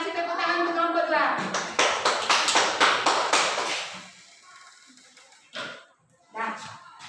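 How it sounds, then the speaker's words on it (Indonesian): Fifth-grade pupils in a classroom give a short, lively burst of clapping for a discussion group, with a teacher's voice before and after and a few brief sounds near the end. "tepuk tangan untuk kelompok 2"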